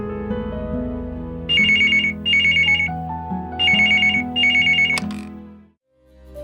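A landline telephone rings in a TV drama, four bursts of a bright electronic trill sounding loud and close over a sustained background music bed, with no voices.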